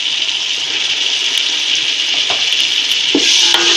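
Ginger garlic paste fries with onions in a hot pan for chicken biryani, a close, steady loud sizzle with occasional soft clicks and scrapes of stirring.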